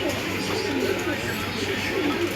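Blue shirting pigeons coo softly in a pigeon farm, with low rolling coos repeating over a constant background hum.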